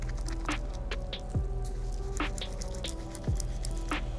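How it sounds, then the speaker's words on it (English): Wet squishing and patting as soapy shoelaces from Air Jordan 11 Platinum sneakers are scrubbed between the hands after soaking in a Reshoevn8r cleaning solution and water mix, soft repeated rubbing bursts close by with no talk. "then just scrub them between your hands"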